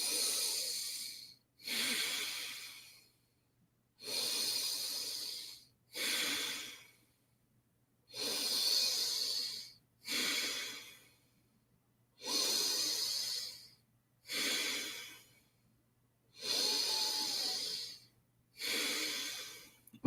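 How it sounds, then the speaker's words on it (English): Slow, deep breaths drawn in and out through the nose during a breathwork session, about nine airy hissing breaths in a steady rhythm separated by brief silences, close and alone with no talk. "we're going to start breathing in and out through the nose at about this pace"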